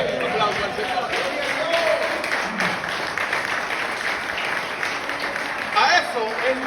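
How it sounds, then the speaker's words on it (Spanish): A church congregation at a Sunday service claps and cheers for the Lord in a steady, dense wash of applause, loud and continuous, with voices mixed in throughout. "Den un fuerte aplauso al Señor."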